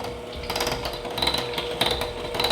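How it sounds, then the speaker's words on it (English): An electric mixer on low speed combining vegan eggnog cake batter, a steady whirring motor with a rhythmic rattling clatter of beaters in the bowl, close and continuous. "Now we're just going to use our mixer. We're going to mix it on a pretty low speed to start."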